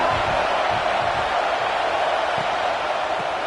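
A dense, steady roar of a large college football stadium crowd in a video game, continuous and loud, with a faint murmur of voices blended into the wash.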